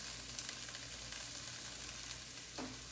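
Spices for sambar sizzling in hot oil in a pan, a faint, steady crackling hiss heard close up with no talking.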